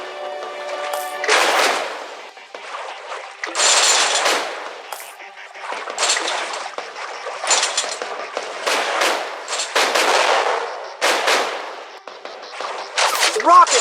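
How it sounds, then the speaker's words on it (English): Game shotgun blasts in Ramboat Raft n Roll, a run of loud, sharp booming shots in irregular bursts across the clip, with brief synth tones mixed in. "Shotgun."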